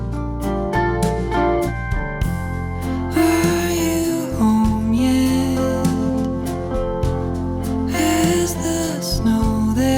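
A finished song mix plays back from a Cubase project: dense full-band music with steady bass, sustained tones and percussive hits, continuous and loud with no talking.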